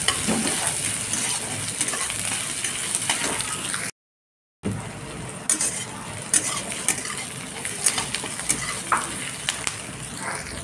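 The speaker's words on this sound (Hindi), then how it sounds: "प्याज को हम दो मिनट तक भून लेंगे" Onions frying in hot oil in a kadhai give off a steady, close sizzle, broken by frequent scrapes and clinks of a spoon against the pan and one brief gap of silence.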